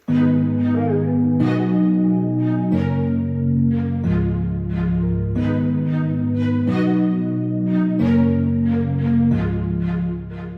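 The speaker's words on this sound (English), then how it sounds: "So here I changed it to spiccato," A spiccato string preset plays short, bouncing repeated notes in a steady rhythmic pattern over sustained low chords for a dancehall beat in FL Studio, loud and alone with no talking.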